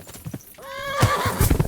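A horse in the Kingdom Come: Deliverance II video game gives a loud whinny with rising, wavering tones, then heavy hoofbeats pound close by at a gallop.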